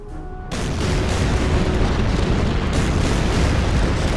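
Battleships shelling bunkers in the strategy video game Order of Battle: after a brief quiet moment, a loud, sustained roar of explosive artillery fire erupts and rumbles continuously to the end.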